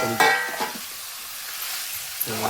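Spoon stirring mutton curry in a pot just uncovered, with a close scrape and clack against the vessel over a steady hiss of sizzling, brief and alone without talk.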